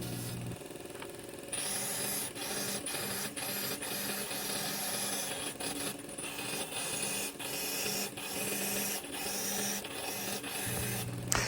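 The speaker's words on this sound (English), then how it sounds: "I'll use my sander here. This really kind of squares it off" An electric sander grinds against an aluminum coin up close, a steady harsh rasping whir with brief scratchy dips as the pressure shifts.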